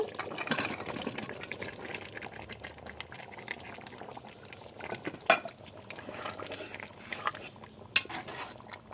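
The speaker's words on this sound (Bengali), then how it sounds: "এখন নারিকেল আর আলুগুলা দিয়ে দিব" Potatoes and coconut going into a pot of braised meat, with a steady bubbling simmer, occasional clinks of utensils against the pot, and a couple of sharper knocks.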